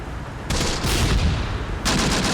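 Artillery and gunfire in the World War II strategy game Close Combat: The Bloody First, dense bursts of rapid shots with heavy booming impacts, loud and continuous.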